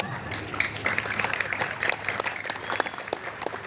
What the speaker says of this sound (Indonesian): Udah mau tepuk tangan sing banter ya.